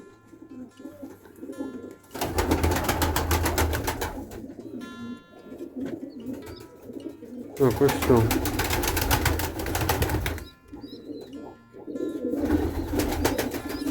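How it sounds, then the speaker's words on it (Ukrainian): A white Iranian pigeon coos softly in low, rolling murmurs between loud fluttering bursts of wingbeats, with someone speaking briefly nearby. "Це в мене одна голубочка. Біла іранка."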